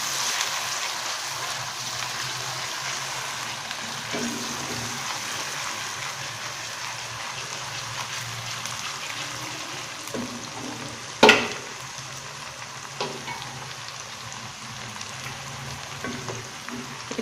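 Garlic and ginger fry in a pan with a soft, continuous sizzle, steady and moderately quiet, broken by a sharp clink of a utensil midway and a few faint stirring scrapes.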